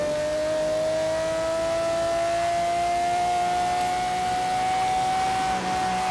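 A Pagani Zonda engine in Forza holds a loud, sustained rev with a steady rising whine throughout, a continuous in-game engine note with no talk over it.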